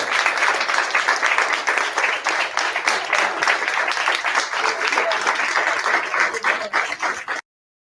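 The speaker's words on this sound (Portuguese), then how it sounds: "para a gente poder dar uma salva de palmas" A crowd at a hunger-strike protest encampment breaks into sustained, dense applause, clapping steadily at close range for several seconds before cutting off abruptly.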